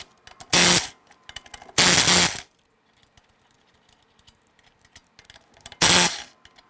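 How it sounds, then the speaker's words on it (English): Lug nuts being loosened from a 2001-2007 Ford Escape wheel with a 19mm socket on a power tool, three loud bursts of a few seconds each with quiet gaps between them. "Using a 19mm socket, we want to go ahead and remove the lug nuts."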